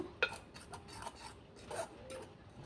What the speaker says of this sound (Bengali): কাঁটা চামচ দিয়ে আমি একটু এটা ব্যাটার মিশ্রণটাকে ভালো করে মিশিয়ে নেব